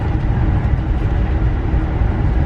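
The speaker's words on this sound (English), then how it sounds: "now this same train is blasting down the Northeast Corridor at like, I don't know, 90 miles an hour or something" Amtrak Cardinal train racing at high speed along the Northeast Corridor, heard from inside a coach car as a steady, loud low rumble and rushing wheel noise with no talking.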